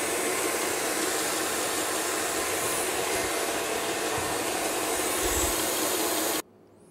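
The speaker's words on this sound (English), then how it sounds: "Still mixing. 5 minutes isn't up." A stand mixer whips cake batter for a Bûche de Noël sponge, a steady, loud broadband whirr running without pause for over six seconds before cutting off abruptly, with no voices.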